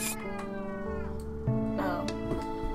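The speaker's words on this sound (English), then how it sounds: "Got a cat over here." A cat meowing in the video game Yandere Simulator, a couple of drawn-out tonal meows with a brief caterwaul quality, heard close and clear.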